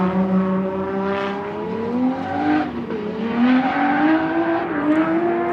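A Nissan Silvia S15 drift car of the Forward Auto team runs at full throttle at a drift qualifying event, its engine holding a loud sustained high-revving note with pitch shifts as it initiates, no talking.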